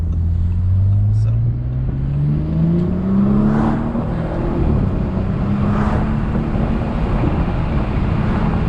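An Audi B9 S5 Sportback with an ECS closed-box intake accelerates on the road, its engine tone rising steadily under wind and road noise, moderately loud and continuous.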